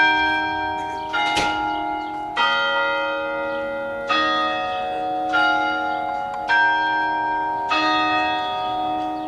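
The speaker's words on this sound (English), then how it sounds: "every quarter hour, the bells of Schaefer Tower sound off for the students of Ball State University" The carillon bells of Schaefer Tower at Ball State University ring out in a slow sequence of about seven clear, resonant strikes, each tone hanging and decaying before the next, loud and alone.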